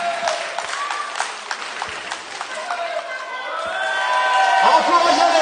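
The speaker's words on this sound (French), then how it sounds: "on veut des applaudissements" Crowd at a French wrestling match in Serifontaine clapping and cheering under an announcer's loud amplified voice, with shouts and whoops rising toward the end.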